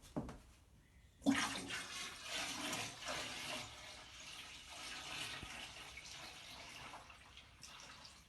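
Liquid treatment pours steadily into a bucket half-filled with warm water, a sudden splashy gush that settles into a continuing trickling rush, close by.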